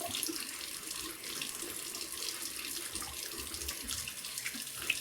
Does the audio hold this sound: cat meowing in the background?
no